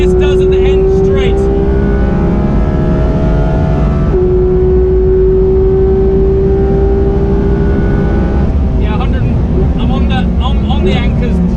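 Porsche GT3 at high speed on a track straight, its engine drone steady and loud, easing off with a drop in pitch around the middle and rising again, under close wind roar with voices talking over it.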